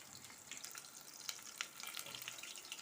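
Onions frying in oil for a home-made vegetable biryani, with bay leaves and a little cumin already in the pan, give a steady, quiet crackling sizzle and a few sharper pops, and nobody speaks.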